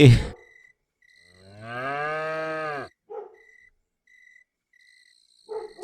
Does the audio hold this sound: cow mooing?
yes